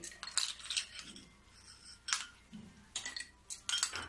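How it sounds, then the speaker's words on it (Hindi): Ice cubes dropped into two glasses while making homemade pineapple juice, giving a few sharp clinks and rattles in separate bursts, close and fairly quiet. "ये दोनों गिलास में थोड़ा थोड़ा मैं बर्फ डाल दूंगी"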